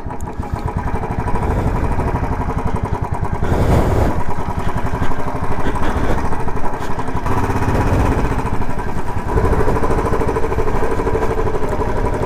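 A Royal Enfield Bullet 350 motorcycle engine idles at a standstill with a steady, loud, close thumping throb that continues unbroken throughout, with no voices.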